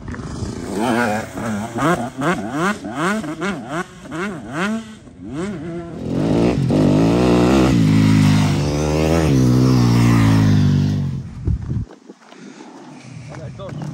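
A car on a timed reference lap around a race circuit, its engine rising and falling through repeated revving sweeps and gear changes, loud and close, with voices talking over part of it.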